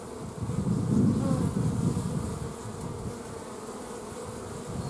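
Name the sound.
honey bees buzzing at an opened beehive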